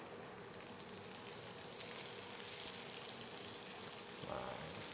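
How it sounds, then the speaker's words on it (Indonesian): Chili peppers sautéing in a pan give off a faint, steady sizzle and crackle that runs throughout with no voices over it. "Kita tumis dulu cabainya."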